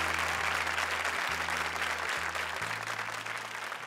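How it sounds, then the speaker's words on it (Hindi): A studio audience claps for a pair of comedians, a short, even burst of applause with a low steady hum underneath. "जोरदार तालियां कुलदीप और शायांतनी के लिए।"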